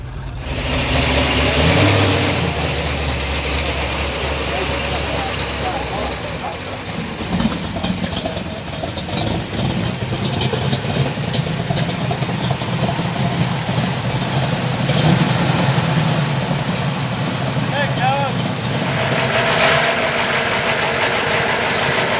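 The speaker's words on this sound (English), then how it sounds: "Talk about an angry 70 Dodge Challenger here." A 1970 Dodge Challenger at a car show, its engine rumbling loud and close at idle, then revving repeatedly over a steady throb amid outdoor crowd noise.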